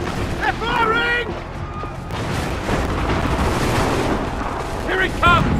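Artillery and gunfire rumble heavily in an Assassin's Creed III battle, with dense low booms and crackle running throughout while voices shout over the barrage.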